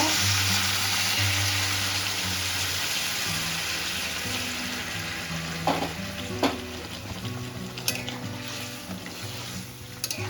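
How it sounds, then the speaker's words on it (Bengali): Hot water goes into a sizzling fish roe curry, the loud frying hiss settling into a softer bubbling, with a few sharp clinks of the pan or spoon partway through. "এখন গরম জল করে নিয়েছি পরিমাণ মতো দিয়ে দেবো"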